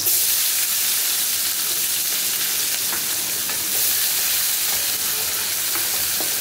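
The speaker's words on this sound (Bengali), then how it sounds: "পেঁয়াজটা লাল লাল করে ভাজা হবে" Chopped onion fries in a pan of hot oil, giving a loud, steady hissing sizzle up close with faint stirring scrapes mixed in.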